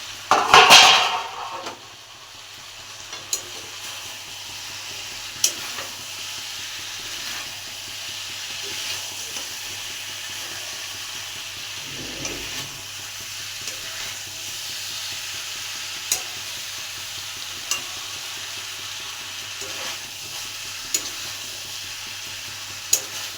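Fried potatoes and jackfruit are stirred into well-cooked chicken in a pan, a low steady sizzle and hiss with a sharp utensil clatter at the start and occasional faint scrapes and taps throughout.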